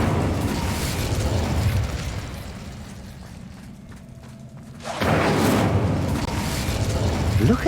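The Incendio fire spell in Hogwarts Legacy bursts with a loud fiery whoosh and boom that fades into a quieter rumbling stretch, then a second strong blast of roaring flame and game sound effects returns.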